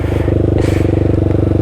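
A 125cc four-stroke motorcycle revs loud and close, its single-cylinder engine pulsing steadily at high rpm as the clutch is dumped, with a brief scraping clatter partway through.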